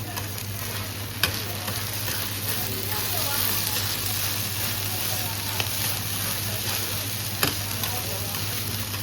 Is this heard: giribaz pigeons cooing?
no